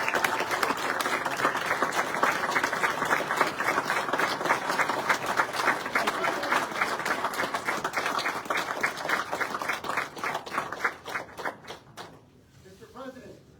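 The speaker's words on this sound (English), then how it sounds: "give these people a big round of applause" A crowd at a press conference applauds in a long, dense, steady burst of clapping that fades out near the end.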